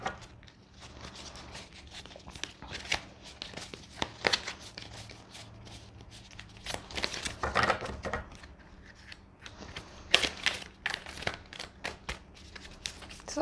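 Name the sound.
shuffling tarot cards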